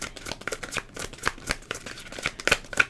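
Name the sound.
shuffling tarot cards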